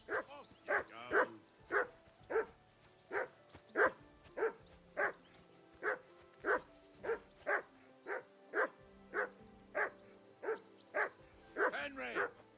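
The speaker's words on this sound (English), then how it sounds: "That dog of yours is barking like the devil." A dog barks steadily in Kingdom Come: Deliverance II, around sixteen evenly spaced loud barks over a low background hum, with no pauses between them.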